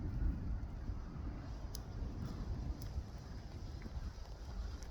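Wind gusting outdoors beside an open cooking fire, heard as a constant low buffeting rumble across the microphone, steady and fairly loud throughout with no talking.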